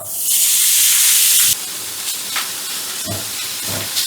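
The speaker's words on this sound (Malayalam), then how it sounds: "ബട്ടർ ഒന്ന് ഉരുകി വരുമ്പോഴത്തേക്ക് നമ്മൾ നേരത്തെ കഷ്ണങ്ങളൊക്കെ വെച്ച് ചിക്കൻ ഉണ്ടല്ലോ അതിലേക്ക് ഇട്ട് കൊടുക്കാം" Chicken pieces drop into melted butter in a hot pan, giving a loud hissing burst that settles into a quieter, steady sizzle with occasional soft clinks.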